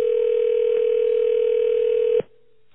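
A long, steady telephone line tone on a call into a radio show holds unbroken for about two seconds, then cuts off abruptly, leaving a faint hum.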